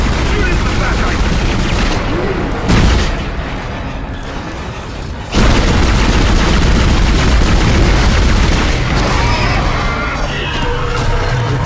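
Gunshots in the Dead Space video game form a dense, continuous barrage of loud firing and booms, with heavier blasts standing out partway through.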